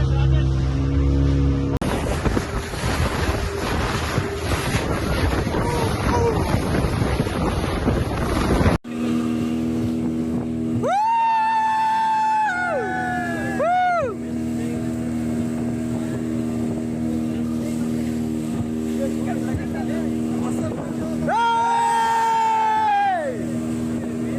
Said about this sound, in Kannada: ಸೊ ಸ್ಪೀಡ್ ಬೋಟಲ್ಲಿ ಇವಾಗ ಹೋಗ್ತಾ ಇದೀವಿ ಲ್ಯಾಂಡ್ಗೆ